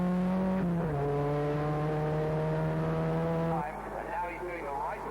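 Ford Sierra production race cars running nose to tail on a circuit, with a loud sustained engine drone that drops pitch at a gear change and then fades as the cars pass. A race commentator talks over it.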